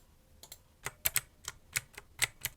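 Keys clack on a Hiwings HI300 one-handed mechanical keyboard, about a dozen crisp, sharp strikes in an uneven rhythm, close and clear with no voices.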